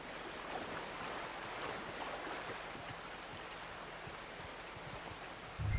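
Steady, broadband rush of a waterfall in the open-world video game Red Dead Redemption 2 fills the whole stretch evenly, with no voices, ending in a brief louder thump.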